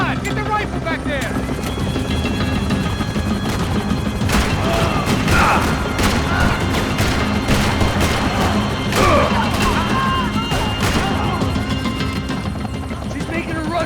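Gunfire in Max Payne during a helicopter chase, with repeated shots and crashes over a steady rotor drone, under frequent shouting voices.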